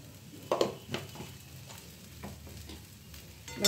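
A spoon stirs chicken filling with garam masala in a frying pan, soft scrapes and light taps over a faint steady sizzle, quiet and close with no voices.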